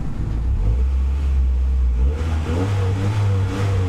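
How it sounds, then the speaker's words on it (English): A Honda DC2 engine, running with no thermostat during a Koyo radiator install, revs up loudly, its deep droning note rising and holding steady for several seconds with no talking over it. "Give it some revs."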